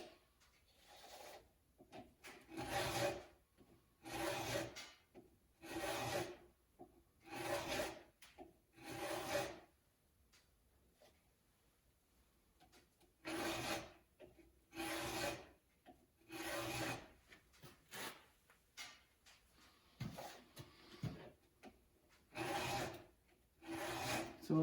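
Round file sharpening the chain of a Stihl MS362 chainsaw, a series of close, gritty rasping strokes in regular groups, each stroke a second or so long, separated by short quiet pauses.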